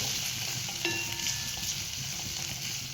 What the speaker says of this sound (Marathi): अजून एक दोन मिनटं आपण याला परतून घेऊया